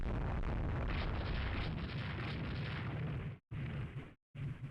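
Heavy cruiser guns booming in a naval battle in Rule the Waves 3, a dense continuous rumble of explosive bursts that cuts out abruptly twice near the end.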